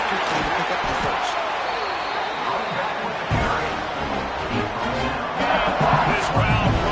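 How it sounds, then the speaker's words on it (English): Stadium crowd roaring and cheering in College Football 26 during an LSU season game, a loud, dense wall of noise that swells near the end, with a commentator's voice heard over it. "This crowd rising up, sensing that its defense needs some help."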